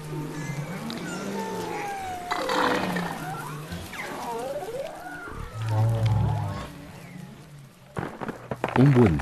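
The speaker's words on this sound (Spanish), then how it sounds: "Otros ruidos de las demás ballenas boreales." Underwater bowhead whale calls in the Arctic: rising and falling moans and sweeping tones, overlapping and echoing, with a deep low rumble partway through.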